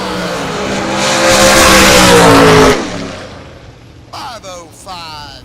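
A Super Gas style Corvette roadster drag races at an outlaw series event, roaring loudly then fading as it pulls away, while an announcer talks over the track noise.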